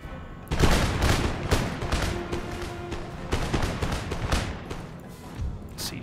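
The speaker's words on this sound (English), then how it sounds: "Now, light infantry, fire!" Light infantry in Empire Total War fire a musket volley, a dense crackling fusillade of many overlapping shots that bursts in loudly and rolls on for several seconds with scattered booms, no talk over it.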